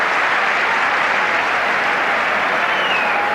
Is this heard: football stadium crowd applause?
yes